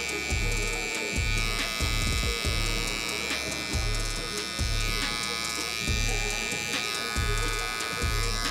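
An electric hair clipper buzzes steadily up close while cutting a high taper, with repeated short passes; a person talks over the buzzing throughout.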